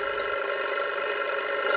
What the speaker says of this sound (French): avait mis son réveil à sonner